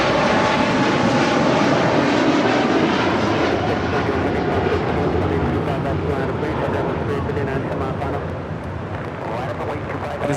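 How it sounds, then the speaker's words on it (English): Polar Air Cargo Boeing 747-8 freighter departing LAX, its engines roaring loud and steady, the broad rumble slowly easing toward the end. "9601 departing to Seoul on a 747-8 freighter"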